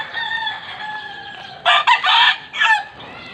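Chickens and chicks cluck while a rooster crows in several loud, close bursts over a steady background of peeping and clucking.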